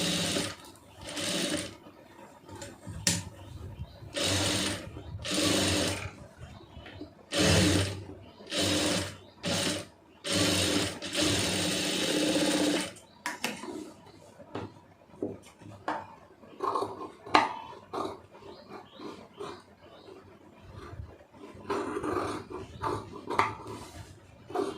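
A sewing machine stitches a blouse in short, loud bursts of rapid whirring separated by quiet pauses, with the runs growing choppier and more frequent later on.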